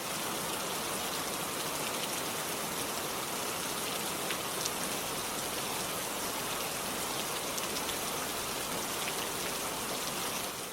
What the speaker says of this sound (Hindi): बारिश अभी भी नहीं रुकी।